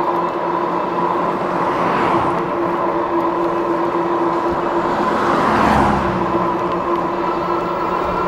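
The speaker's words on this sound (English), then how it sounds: "Try to let these cars get by." Cars pass by on a road near a rider on an Awesome Bandit Forerunner e-bike, with two loud whooshing pass-bys over a constant rumble of traffic noise.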